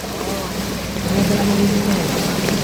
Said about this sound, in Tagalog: ang lakas ng agos ah